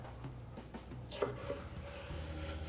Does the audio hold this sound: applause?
no